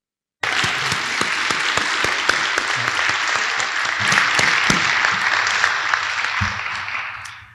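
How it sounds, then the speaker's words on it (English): A crowd at a town oath of office ceremony applauds the Lieutenant Governor, full, steady clapping that starts abruptly, holds loud for several seconds and then tapers off. "Let's give a round of applause to our Lieutenant Governor."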